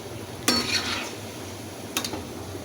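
Pakoras frying in oil are pressed and nudged with a spoon, giving two short metallic scrapes against the pan over a soft, faint background sizzle, close by with no voices.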